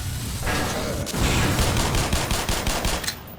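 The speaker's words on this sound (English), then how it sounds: "if you hold down right click, you will start firing really quickly" Rapid automatic gunfire from a weapon in the video game Black Mesa, a dense, loud stream of overlapping shots running steadily for several seconds with no talk over it.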